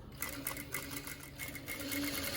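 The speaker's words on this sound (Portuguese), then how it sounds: "eu estou concluindo aqui a costura das laterais da blusa" A sewing machine runs steadily, stitching the side seams of a boat-neck blouse with sleeves, its motor humming close and continuously with a fast, even needle rhythm.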